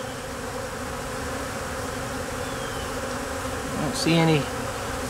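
Honeybees buzz around an open hive on a gloomy day, a steady low drone throughout with one louder bee swooping close near the end, while a person talks briefly.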